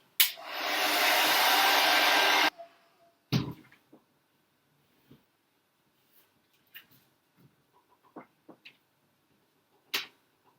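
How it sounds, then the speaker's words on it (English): A hair dryer blows loudly for about two seconds drying a watercolour painting, then switches off, followed by scattered clicks and light taps in a quiet room. "or hairdryer it"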